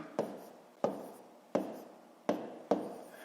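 A pen strikes paper in five distinct, evenly spaced taps and short strokes as numbers are handwritten for a long division problem, close and quiet with no talking.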